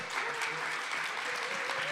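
An audience applauds at a live poetry jam, a dense, steady clatter of many hands clapping throughout, close and full.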